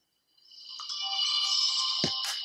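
Music plays through Beats Solo 2 wireless headphones in Siren Red, heard leaking from the earcups at close range as a steady, tinny stream with a thump near the end.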